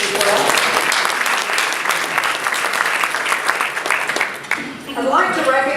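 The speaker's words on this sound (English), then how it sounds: "let's give him a round of applause as well" Loud, sustained audience applause at a chamber of commerce State of the City address, many hands clapping together before dying away as a voice begins speaking at the end.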